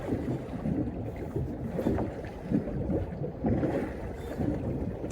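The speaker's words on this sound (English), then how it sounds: "this wind is getting really bad" Strong wind buffets the microphone on an open bay during a solo fishing trip, a continuous rough low roar that gusts and swells throughout.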